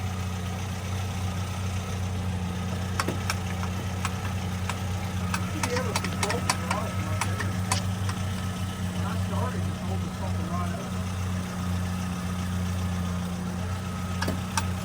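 A 1966 Chevrolet C10 engine running steadily, a loud continuous low rumble with a constant hum and occasional clicks, heard close up throughout.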